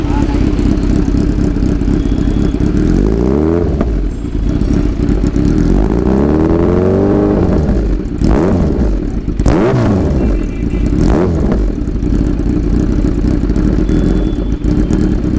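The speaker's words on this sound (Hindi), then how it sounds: "रहा अपना last exhaust SC carbon fibre, जो कि मेरा खुद का पर्सनल एग्जॉस्ट है" A Kawasaki Z900 motorcycle fitted with an SC carbon fiber exhaust revs loudly and close, its idle rising into several sharp throttle blips that sweep up and fall back, with a brief voice under the engine.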